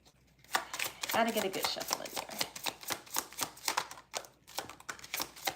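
Rapid riffling and slapping of tarot cards being shuffled, a steady series of crisp bursts with a voice speaking over the start.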